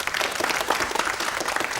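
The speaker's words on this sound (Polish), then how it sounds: "Brawa dla Maćka" Dense applause from a studio audience at a video game show, steady and fairly loud throughout, with no voices standing out.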